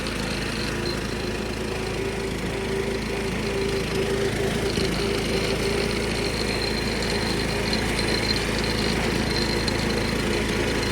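A 1976 John Deere 300 riding lawnmower engine runs steadily at close range, a constant mechanical drone with a faint whine on top and no speech.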